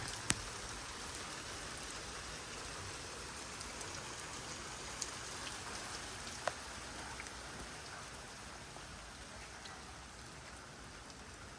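Heavy stormy rain pours down steadily in a village, a dense, even hiss with scattered drop taps throughout and no voices.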